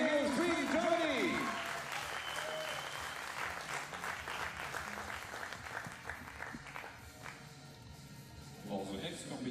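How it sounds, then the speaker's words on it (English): Spectators applaud at a junior men's 50m rifle three-positions competition, a scattered clapping that fades gradually, with a voice talking over it early on. "Come on, big applause for everybody."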